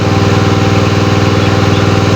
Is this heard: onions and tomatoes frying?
no